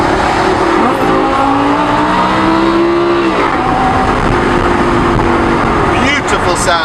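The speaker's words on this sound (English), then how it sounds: "Beautiful sounding car." A Lamborghini supercar rolls past just over the speed limit, its engine note rising and sweeping through shifting tones for several seconds, loud and close, with people talking over it.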